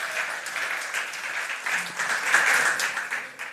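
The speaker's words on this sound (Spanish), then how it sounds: "Gracias, un aplauso." Steady applause from a church congregation, a dense wash of clapping that holds evenly for a few seconds without clear breaks.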